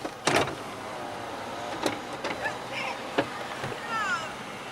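A car's electric power window motor whirs briefly, close by inside the vehicle, over a steady background of street traffic with a few clunks and knocks.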